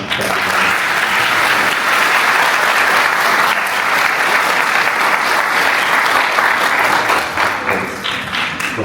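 Loud, dense thank-you applause from an audience at a Yığılca ceremony marking the adoption of the Turkish national anthem and honoring Mehmet Akif, a continuous roar of clapping that tapers slightly near the end.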